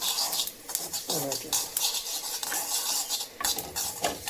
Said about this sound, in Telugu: అట్లా కలుపుతూ ఇట్లా మంచిగా వేయించుకోవాలి నువ్వులు